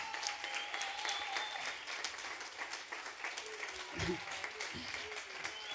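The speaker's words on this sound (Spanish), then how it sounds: "Otro fuerte aplauso para él," An audience gives Tito sustained applause, dense clapping that carries steadily from start to finish, with a few murmuring voices rising briefly near the end.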